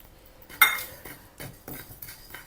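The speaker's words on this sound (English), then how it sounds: "Now we add in our" Whole cumin seeds tipped into a dry pan for roasting, a sharp scattering clatter followed by several lighter rattling, stirring scrapes, close and moderately quiet with no talk.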